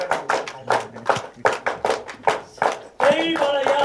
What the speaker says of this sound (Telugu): 1 2 1 2 3 క్లాప్ చేయండి ఒకసారి